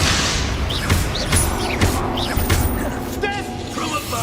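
Magic spell blasts in the video game Hogwarts Legacy, several booming bursts in quick succession, each a short heavy thump with a crackling tail, mixed with a voice shouting incantations over the combat.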